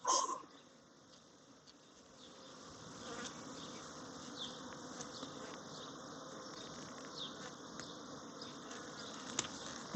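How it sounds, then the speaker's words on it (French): Honeybees buzz around an opened Kenyan top-bar hive during a June inspection, a steady soft droning hum close by after a brief knock at the start. "quelques abeilles."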